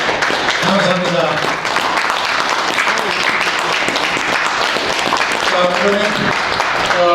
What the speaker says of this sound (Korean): 박수로 환영해 주시면 고맙겠습니다.